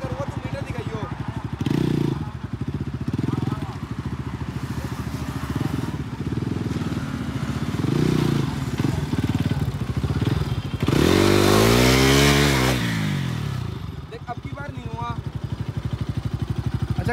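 A Bajaj Pulsar RS 200 with an ABS fault runs steadily up close, then the throttle is opened hard around the middle, sending the engine into a loud rising rev before it settles back to idle.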